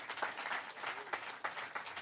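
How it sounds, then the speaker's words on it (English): A crowd at the Sport Beach main stage in Cannes claps for Carmelo Anthony, uneven bursts of hand claps with a few sharper individual strikes standing out over a continuous patter, no voices. "Clap it up, clap it up, clap it up."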